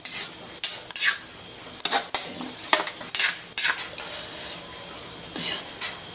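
A spoon stirs and scrapes soup in a cooking pot, giving repeated clinks and scraping strokes in an uneven rhythm, close and fairly loud, with a light sizzle underneath.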